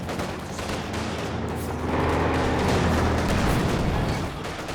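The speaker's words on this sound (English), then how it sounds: "Good hit there from the Panzer IV." Tank cannon fire and impacts in Company of Heroes 2 real-time strategy battle, Panzer IV scoring a hit amid a steady din of gunfire, explosions and rumbling combat, loud and continuous with a fuller swell in the middle.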